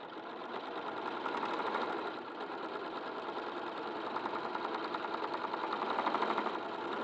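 A sewing machine runs continuously, stitching stretched elastic into a fabric seam, its rapid needle rattle steady and close with slight swells in speed, with no talking.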